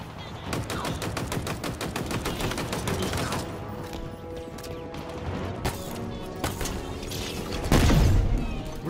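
Rapid automatic gunfire in Halo Infinite, with dense repeated bursts of shots and a few heavier impacts. It runs loud and nearly continuous, thins out in the middle and ends in a big crash-like blast.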